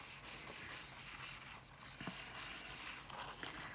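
Faint, steady rubbing on a stainless steel straw to remove a misprint, a soft continuous scrubbing with a few slightly stronger strokes, close and quiet.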